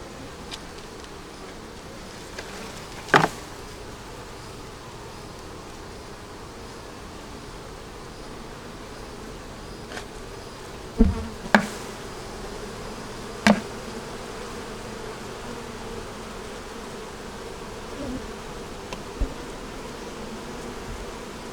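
Honeybees buzz steadily inside a nucleus hive that holds plenty of bees, a continuous low hum heard close up, broken by a few short sharp knocks and clicks.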